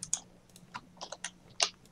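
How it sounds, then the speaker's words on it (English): Computer keyboard keys clicking in sparse, irregular bursts behind a Skype call, faint and close with short gaps between taps. "That clicking in the background is JT"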